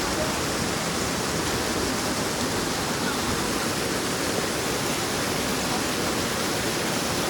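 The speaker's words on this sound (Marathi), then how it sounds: "पाण्याचं पण प्रेशर खूप जास्त आहे." Strong monsoon stream at Tamhini Ghat rushes hard over rocks, a broad, steady roar of flowing water close by, unbroken and uniform across the whole stretch.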